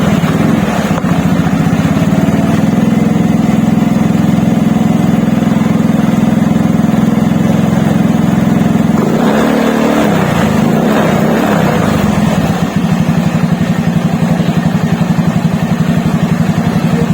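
A carbureted Honda Beat scooter engine runs steadily close by at idle, then is revved briefly around the middle before settling back into a constant loud drone.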